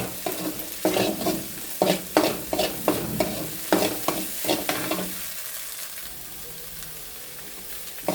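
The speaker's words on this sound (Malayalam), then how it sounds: "ഇത് നമുക്ക് ഒന്ന് വറുത്തെടുക്കാം കേട്ടോ" Food is stirred in a frying pan over a low flame, with about ten rhythmic scraping strokes over a sizzle. The stirring stops after roughly five seconds, leaving only a faint, steady hiss.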